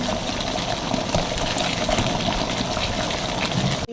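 Sweet-and-sour phalsa chutney seasoned with chili powder simmers in a pan, making a steady, dense bubbling and sputtering close up with no voices.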